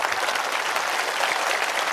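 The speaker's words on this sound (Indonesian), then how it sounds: "ayo tepuk tangan dulu" An audience at an Islamic religious lecture in Riau claps steadily and densely for a couple of seconds, a close, even burst of applause with no talk on top.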